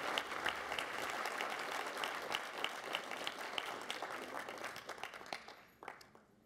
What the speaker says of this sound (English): nice round of applause for our Place 8 City Council candidates